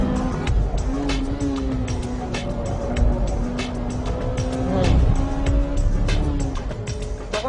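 A Honda Civic EK9 Type R with its B16B engine climbs an uphill stretch of a circuit. The high-revving engine note holds loud and close throughout, rising and falling with gear changes and throttle.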